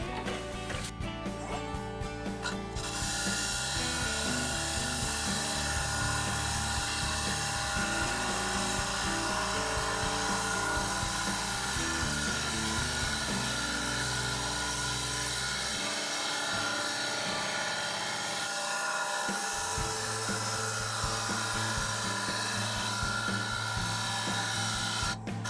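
A maple bowl spins on a wood lathe while a tool takes light cuts, giving a loud, steady whirring hum with shifting tonal changes and brief scraping throughout, close up and continuous.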